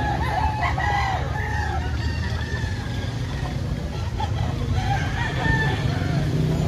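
Hens cluck and a rooster crows repeatedly at a busy poultry market where laying hens are for sale, the calls rising over a constant crowd murmur and traffic noise, with people chatting nearby.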